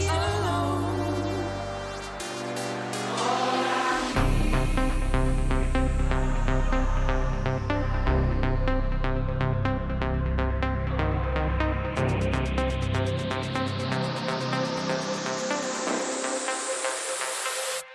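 A synth build-up in Serum with the bass filter cutoff automated plays as a dense, loud electronic music passage, sweeping and swelling for around eighteen seconds, then stopping abruptly, with no talking.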